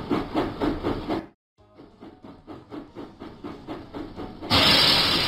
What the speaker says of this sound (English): James puffed proudly into Farmer McCall's farm.